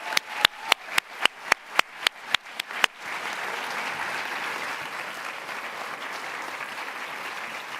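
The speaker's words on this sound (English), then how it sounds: "Please join me in a final round of applause for all the winners tonight" Audience at an awards ceremony breaking into sustained applause, a dense, even wash of clapping that follows a run of about a dozen sharp rhythmic claps.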